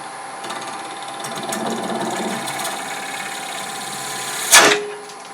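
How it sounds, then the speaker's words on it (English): A square carbide scraper nibbles at Corian spinning on a wood lathe, a steady whining hum with scraping texture, ending in a sharp brief crack-like burst as the tip catches, close and alone. "we're just going to nibble away at it a little bit"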